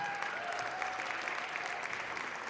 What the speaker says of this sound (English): Let's give a round of applause for Miles Davis.